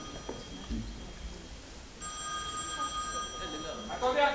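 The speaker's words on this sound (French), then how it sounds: "Le téléphone !" A telephone rings with a steady electronic trill that starts partway through and continues, while people talk in the room around it.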